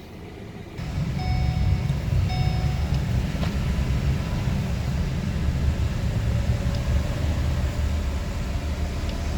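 Tuned 2018 Ford F-150 with the 2.7 EcoBoost and 10R80 transmission running on a dyno, giving a steady, loud low rumble throughout after a quiet start.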